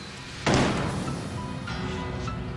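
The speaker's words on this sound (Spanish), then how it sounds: "¡Un disparo!" One gunshot rings out in a quiet space and fades with an echoing tail.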